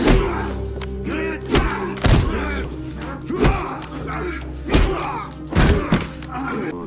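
A policeman beats a man named Kane in a film scene, a series of heavy punches and blows landing as sharp thuds and slams every second or so over a low droning backdrop.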